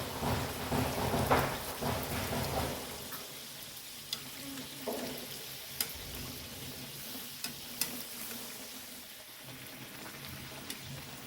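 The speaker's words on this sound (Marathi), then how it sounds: "तेल छान गरम झालेलं आहे पण हो ना करंजी तळून घेऊया तेलात सोडूया आपण करंजी" Karanji sweets deep-fry in hot oil, a busy crackling bubble that is loudest at first and then settles into a softer sizzle dotted with sharp little pops and clicks.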